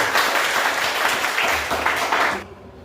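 Classroom applause from a class of senior high school students, a dense steady wash of many hands clapping together for over two seconds before cutting off abruptly into near silence.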